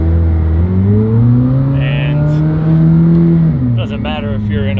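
McLaren sports car engine humming and rising in pitch as it accelerates, a smooth steady drone that climbs then drops back, loud and close, with a voice talking over it.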